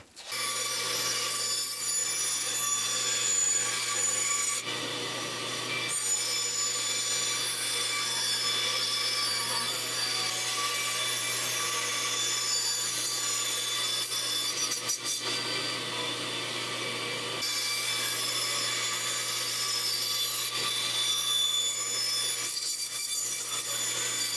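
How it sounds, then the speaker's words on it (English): Steady, loud bandsaw run as wooden toy wheels for a puffin push toy are cut out, a continuous blade whine with brief dips between cuts and no talking. "now I can cut these wheels out on the bandsaw"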